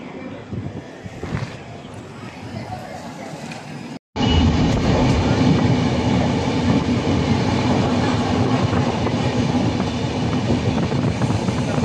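Train rolling into Hadapsar station, a loud steady rumble and clatter of rail cars close by, dropping briefly to near silence around four seconds before the continuous roar resumes; a voice may be faintly present underneath.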